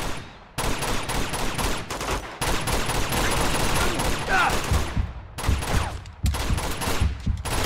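Dense gunfire in Uncharted 2, with rapid overlapping shots and bursts packed into a loud firefight, broken by brief pauses and joined by a few sharp impacts.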